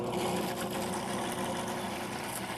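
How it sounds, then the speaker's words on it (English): A Cuisinart Elite 14-cup food processor whirs continuously while blending a vinaigrette with olive oil, a steady, close motor hum with a buzzing whine and no talking. "I'm going to process it some more until all the olive oil goes down."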